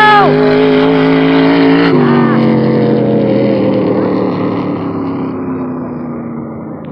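A powerful truck engine roars loudly nearby on lake ice during an ice race, its pitch dropping as the truck speeds away and the sound gradually fades into the distance.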